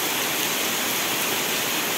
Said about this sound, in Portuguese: Mas continua chovendo bastante, muito forte.